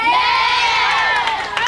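A crowd of children in a television studio audience cheers and shouts loudly and continuously, with excited voices overlapping throughout.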